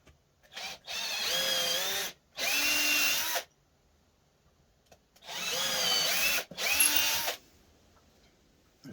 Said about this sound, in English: Let's go with the hand drill, seeing as we're already at it.